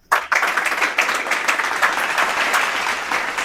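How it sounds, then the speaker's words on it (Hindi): Loud, sustained applause from a seminar audience, a dense patter of many hands clapping that starts abruptly and holds steady throughout. "एक बार जोरदार ताली हो जाए"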